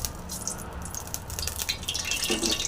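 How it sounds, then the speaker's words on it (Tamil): Cooking oil trickles into a pan in a thin, continuous pour with splashy, dripping detail, close and fairly quiet, before tempering for a Tamil avarakkai stir-fry. "பால் வச்சாச்சு எண்ணெய் ஊற்றிடலாம்"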